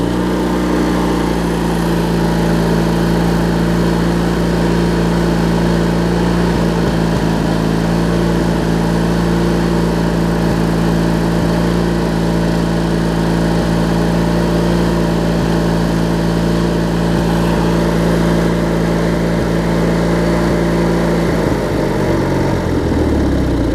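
A Craftsman LT1000 riding mower with an opposed-twin engine runs steadily at a loud, close idle, holding a deep even drone before it cuts off near the end.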